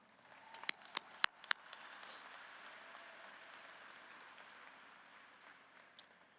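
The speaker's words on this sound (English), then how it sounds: "So please give yourselves a round of applause." Audience applause at an outdoor college commencement ceremony, a soft, distant wash of clapping that swells and holds for several seconds after a few sharp nearby claps.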